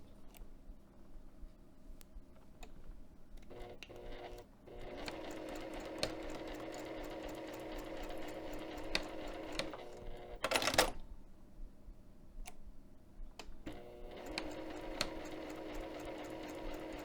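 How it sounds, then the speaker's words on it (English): A sewing machine stitching a side pocket seam on a bag, quiet whirring runs of rapid needle clatter with short pauses and a sharp click partway through. "I'm going to pick it up at the second marking and then sew back down to the bottom"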